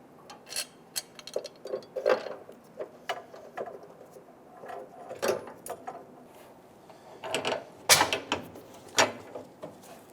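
Ratchet working a fuel tank strap bolt on a 1994-2004 Ford Mustang, heard as quiet, irregular bursts of metallic clicking and clattering close by, with pauses between.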